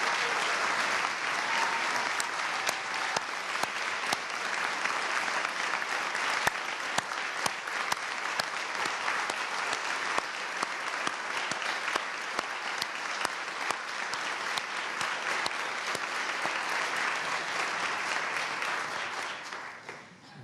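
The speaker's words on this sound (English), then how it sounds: "Please give them a round of applause." A large audience at the State of the Commonwealth 2022 address applauds health officials from a COVID task force. The clapping is loud and sustained for about twenty seconds, then fades at the end.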